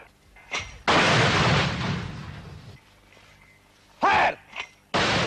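Mortar rounds fire in a 1971 wartime battle near Bangladesh, with heavy, loud booms that roll on for a second or more, then more blasts in quick succession, mixed with a shouted voice.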